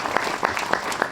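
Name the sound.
audience applause at a film festival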